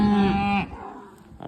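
A cow bellows a single loud, drawn-out moo at feeding time on a pasture, close by, followed by faint farmyard background sound.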